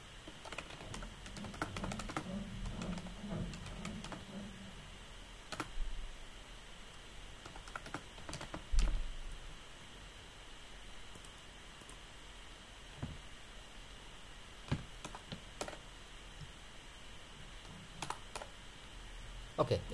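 Soft clicking of computer keys as someone types on a keyboard, faint and irregular, running under quiet talk.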